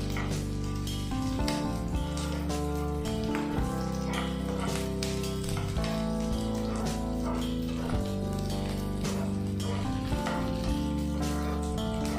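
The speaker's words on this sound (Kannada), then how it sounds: "ನಾನು ಒಂದು ಈರುಳ್ಳಿ ಹಾಕ್ಕೊತಾ ಇದ್ದೀನಿ ಕಟ್ ಮಾಡಿ ಹಾಗೆ ಒಂದು ಇಂಚು ಶುಂಠಿ ಒಂದು ಗೆಡ್ಡೆ ಬೆಳ್ಳುಳ್ಳಿನ ಹಾಕ್ಕೊಂಡು ಫ್ರೈ ಮಾಡ್ಕೊತಾ ಇದ್ದೀನಿ" Onion, ginger and garlic frying in a pan for palak paneer, with a continuous sizzle partly masked by loud background music throughout.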